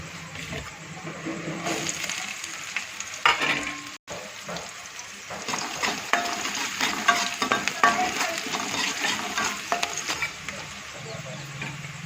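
Garlic cloves and curry leaves frying in a pan, then onion added for a Gujarati dahi tameta curry; a busy close sizzle with spatula stirring and clinks, a brief gap, then louder frying.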